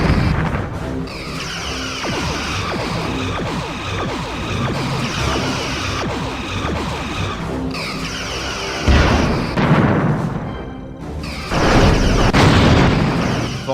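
Torpedo explosions in the Star Trek Bridge Commander space combat game, a dense, continuous barrage of booms and bursts with sharper loud blasts near the end, with no talk.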